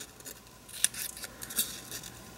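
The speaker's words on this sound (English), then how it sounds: "use a pair of scissors to trim thanks" Two or three quick, crisp scissor snips trimming paper cardstock for a greeting card, close and fairly quiet, with a soft rustle between them.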